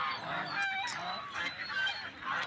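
Ducks held by traders at the Salanga livestock market in Sirajganj honk and call continuously in a dense, overlapping flock chorus, close and steady throughout.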